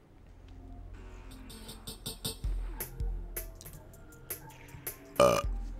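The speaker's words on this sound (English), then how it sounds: "I've been burping a lot recently." Several burps sound close to the microphone in a quiet room, interspersed with soft clicks and faint background chirps, with one louder burst near the end.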